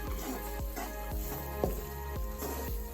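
Jamaican-style curried chicken sizzling in a pot while being stirred, giving a soft steady sizzle with regular scraping strokes of a spoon about twice a second, close but quiet, no talking.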